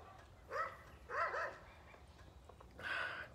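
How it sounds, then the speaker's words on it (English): Neighborhood dogs barking outdoors in the background, three distinct bark bursts at moderate distance, fairly faint, with no talking over them. "There's a lot of dogs in the neighborhood that bark."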